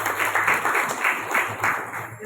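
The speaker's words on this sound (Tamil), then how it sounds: "அதனால அவங்களுக்கு ஒரு கைத்தட்டல் கொடுத்துருக்கேன்." An audience at a cleanliness awareness event in Pennadam town panchayat claps for sanitation workers, a brief burst of fairly close, rhythmic hand clapping with a voice faintly present beneath it.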